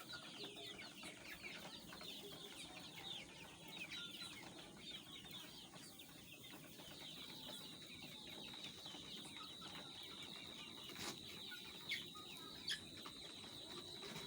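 Sonali chickens in a poultry shed cluck and chirp steadily throughout, a dense flock chorus at moderate distance with no talking.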